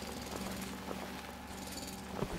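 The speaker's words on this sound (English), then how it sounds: "It's your friendly neighborhood drill." Mining drill running steadily in the video game Foundry, a continuous low mechanical churning with faint rattling, moderately quiet and unbroken throughout.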